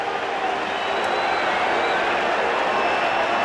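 A large baseball stadium crowd at a Yankees–Cubs game roars and cheers steadily as Roger Clemens is pulled from the mound, a sustained, dense wash of voices with scattered whistles.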